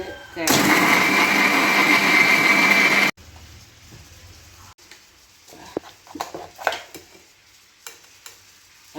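Electric mixer grinder whirring loudly as it blends raw green mango, prawns and salt into chutney, a steady high-pitched grinding burst lasting about three seconds before cutting off, followed by quieter kitchen clatter and someone talking.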